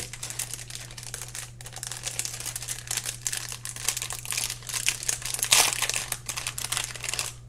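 A small plastic bag holding a Gundam model decal crinkles and rustles up close in busy, continuous bursts over a low steady hum, with no talking.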